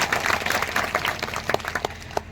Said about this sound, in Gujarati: તે બદલ તમે બધા જરા તાળીઓથી એમનું સન્માન કરજો.